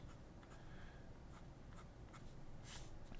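Fountain pen calligraphy nib scratching across paper, faint and close, with a run of short strokes and a few sharper scrapes over a low background hum, no speech.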